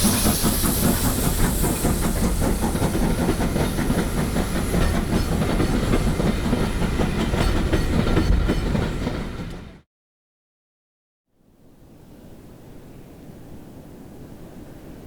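An LMS Stanier Class 5 4-6-0 Black 5 steam locomotive hauls a train at speed, a loud continuous roar of steam and rolling wheels that breaks off into a brief gap, then resumes more quietly.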